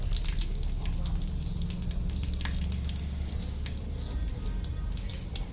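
Curry leaves crackle in hot tempering oil for a fish-free fish curry, a dense, steady sizzle with scattered sharp pops throughout, close and fairly loud with no talking.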